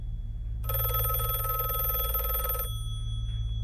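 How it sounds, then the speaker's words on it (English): A telephone bell in a music video rings in one continuous trilling burst lasting about two seconds over a low background hum, then stops. "Why is nobody answering the phone?"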